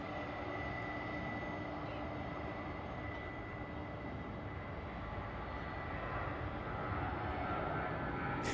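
A Frontier airliner departs at DFW airport, a steady broadband engine roar holding at constant loudness throughout, with faint voices in the background.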